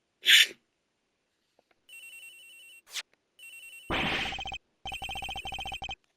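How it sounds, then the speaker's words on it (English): Mobile phone ringtone from the video game Ace Attorney Investigations, chiming in several short bursts with gaps between them, mixed with brief game sound effects, no talk. "Agent Hicks' phone! It's ringing from somewhere, sir!"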